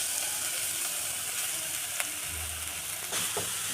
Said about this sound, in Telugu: అదే నెయ్యిలో క్యారెట్ వేసుకోవాలండి.